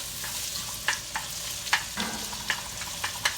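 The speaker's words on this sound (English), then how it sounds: "Got some bacon I'm going to put in here. We're going to saute this up together." Bacon and white onions sautéing together in a pan for old-school fried cabbage, a steady close sizzle with intermittent soft scrapes and taps from stirring, no speech.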